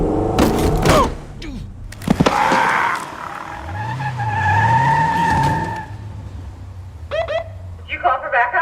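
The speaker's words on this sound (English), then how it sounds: "the police scene where Sarah goes ham on Roy and runs him over with the car" A car skids with screeching tires as it runs someone over during a police scene in the movie Palm Springs. A loud, long squeal rises and falls over engine noise and a thud, and voices talk around it.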